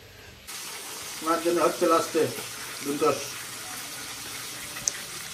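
Fish frying in a pan, a steady broadband hiss of sizzling oil under a voice speaking in the middle of the clip, with the sizzle carrying on alone afterward.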